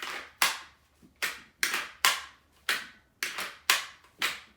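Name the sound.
airsoft Glock 19x training gun dry firing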